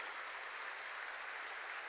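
A church congregation applauds during a sermon, an even, distant wash of many hands clapping held steadily throughout at a soft level.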